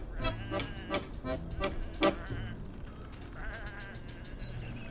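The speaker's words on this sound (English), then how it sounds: "Come on, these are just sheep." Sheep bleating in a point-and-click adventure video game, several loud, wavering bleats in quick succession over the first seconds, followed by softer overlapping calls.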